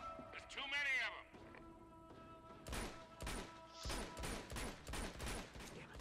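Gunfire in the Uncharted 2: Among Thieves video game: a rapid series of loud game gunshots bursting out in quick succession, mixed with game effects and a voice talking over it.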